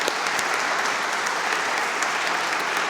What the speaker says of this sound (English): So a hearty round of applause for the people on the transplant team.